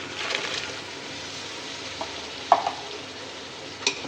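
Chicken frying with spices and a tomato and green chilli paste gives a soft, steady sizzle in a pot, with a few faint clinks and knocks of a utensil; no voices.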